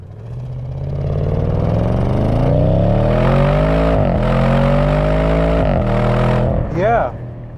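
An Audi S8 luxury sedan accelerates hard, its engine note climbing steadily through the revs with brief dips at gear changes, heard loud from inside the car while occupants talk.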